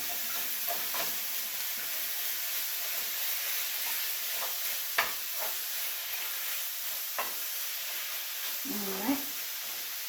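Ground chicken sizzles in a pan, a soft steady hiss with occasional stirring clicks and scrapes, and a voice speaks briefly over it.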